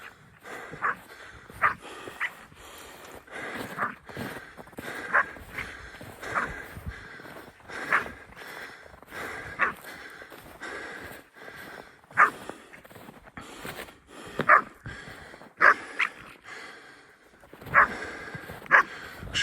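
A young tazy hound puppy barks repeatedly while chasing a fox outdoors, with irregular yips and barks, some loud and close, over rustling movement and faint background noise.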